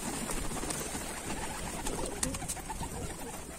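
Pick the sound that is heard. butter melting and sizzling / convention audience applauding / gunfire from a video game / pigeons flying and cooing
pigeons flying and cooing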